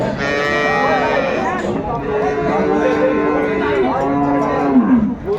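Dairy cows and calves at the Aftabganj cattle market in Dinajpur, Bangladesh, moo loudly and repeatedly with long, overlapping calls, against a steady background of crowd noise and voices.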